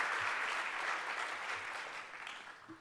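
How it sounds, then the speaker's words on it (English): Audience applause at the 2018 NVBA gala awards ceremony: a full room clapping steadily and densely, holding at one level before tapering slightly toward the end, with no talking over it. "Please give him a round of applause."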